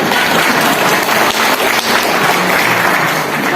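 Audience applause at a political speech, loud dense clapping from a large crowd that continues steadily throughout, with no voice over it.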